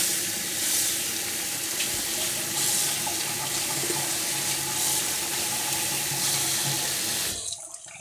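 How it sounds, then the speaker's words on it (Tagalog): Water runs steadily from a tap while salad vegetables are washed in a sink: a loud, continuous rushing splash close by that stops abruptly near the end, with no talk. "Yan, hugasan natin ang salad natin."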